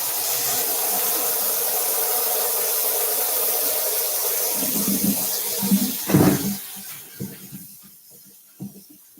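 Tap water runs into a kitchen sink while food is washed for a Thanksgiving dinner, a steady hissing stream that breaks into splashes and gurgles toward the end as the flow is disturbed and stops.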